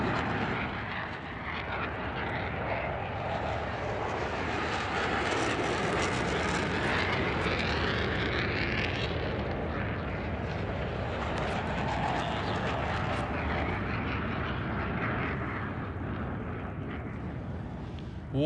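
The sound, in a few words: Boom XB-1 supersonic aircraft flying after takeoff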